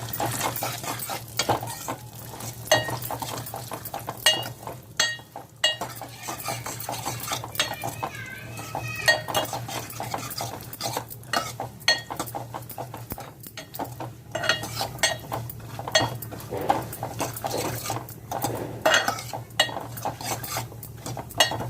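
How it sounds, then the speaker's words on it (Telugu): Cashews fry in a pan for sweet pongal while a metal spoon stirs and scrapes steadily, with a low sizzle underneath and frequent sharp clinks against the pan. "జీడిపప్పు కూడా వేగుతుందండి."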